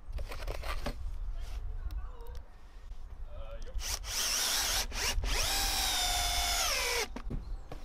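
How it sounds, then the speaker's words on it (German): A power drill drives screws through wooden pallets, giving bursts of whirring and grinding. A long, loud, rising drive runs near the end, with clattering handling noises between the bursts. "Hierfür verwende ich einfach Schrauben, die ich kreuz und quer durch die Paletten schraube."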